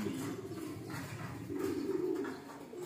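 Pigeons kept as pet birds coo softly a few times at a distance, low throaty calls repeating in short bursts over quiet outdoor background.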